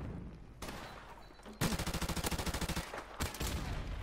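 Automatic gunfire in Modern Warfare Remastered, a rapid rhythmic burst of loud close shots after quieter single reports, ending in another short volley.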